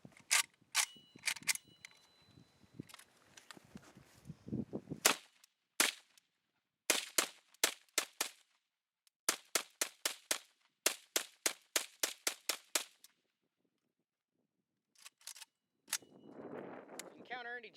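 An AK-47 rifle fed from a TAPCO magazine fires a series of sharp shots in quick strings with short pauses, crisp and close, followed by brief talk at the end.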